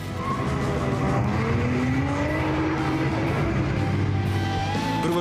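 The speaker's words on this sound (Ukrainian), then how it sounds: "Не обійшлося тут без традиційного спалювання гуми." A loud motorcycle engine roars continuously with rising revs during a tire burnout at a motorcycle festival, mixed with a squealing, skidding tire noise, close and sustained.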